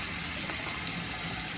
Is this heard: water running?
yes